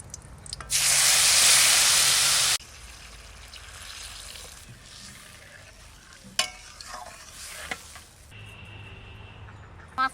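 Water poured onto dried red chili and spices in hot oil bursts into a loud, steady sizzle lasting about two seconds, then settles into a softer crackle with faint clinks and stirring, ending in a low simmer.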